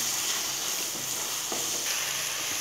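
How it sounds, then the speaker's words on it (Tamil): Chicken chops masala with chilli powder frying in oil in a pan while being stirred, a steady close sizzle with faint scraping strokes and no voices. "இதை நல்லா மிக்ஸ் பண்ணிக்கோங்க."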